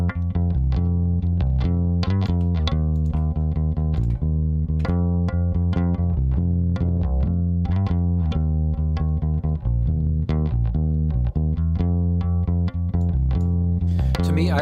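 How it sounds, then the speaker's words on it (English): A music track driven hard into an 1176 compressor until it breaks up, giving a continuous, dense, gritty sustained tone with steady rhythmic pulses and a bitten, saturated edge from start to finish. "I ended up just pushing harder into the 1176 to get that breakup"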